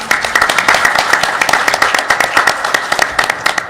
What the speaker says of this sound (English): let's give yourselves a hand clap for coming out